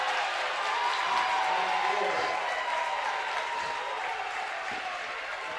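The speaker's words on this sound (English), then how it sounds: "I believe that's the Bronx cheer from the Monarch faithful in blue all around us" Sustained broad roar from a basketball home crowd in a gym, steady and loud throughout with no distinct breaks, a dense wash of many voices jeering.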